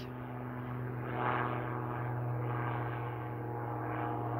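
A small airplane passes overhead at a distance, its faint propeller drone swelling slightly and fading over a steady low hum, no voices.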